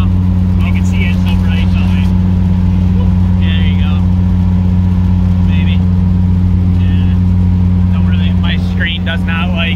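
A rebuilt 4G63 engine in a Mitsubishi Conquest idling with a steady low rumble, loud and close, while people talk intermittently over it.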